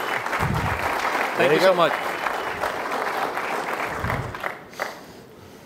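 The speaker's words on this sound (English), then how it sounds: "let's give him a strong round of applause just to welcome them" An audience applauds steadily through a conference panel session on big data and analytics, a dense, even patter of many hands, while a voice talks over it and the clapping tapers off near the end.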